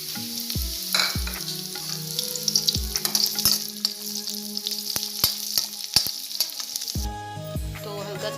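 Cumin seeds, whole dried red chilies and garlic fry in hot oil with a loud, steady close-up sizzle, punctuated by sharp metallic clinks and scrapes of stirring.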